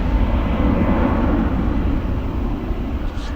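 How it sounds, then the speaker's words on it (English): Steady, loud broadband jet roar of an airliner taking off at Gatwick Airport, continuous and close throughout with no pauses. "You don't get a good takeoff."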